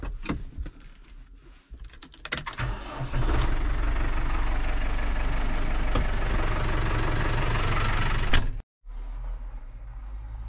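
A farm tractor with a topper attached idles and then revs up to a loud, steady running drone before cutting out abruptly, then resuming at a lower level.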